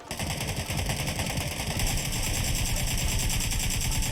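Rapid automatic gunfire in the shooter game PUBG Lite, a dense steady stream of machine-gun shots repeating without pause for several seconds, loud and continuous with no talk over it.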